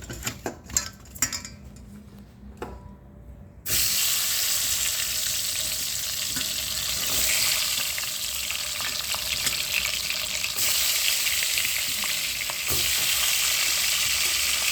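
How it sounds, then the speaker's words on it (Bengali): Eggs fry in a pan for an egg curry. After a few light clinks of utensils and pans, a loud, steady sizzle starts suddenly and continues close up to the end, with occasional scrapes. "দেখুন ডিমগুলো ভেজে নেব আগে"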